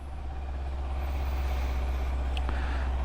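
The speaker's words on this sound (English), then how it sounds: "let's jump on the Versys and go for a ride" A Kawasaki Versys motorcycle engine idles and rumbles steadily up close as the rider sets off, a constant low drone with a brief higher mechanical tick near the end.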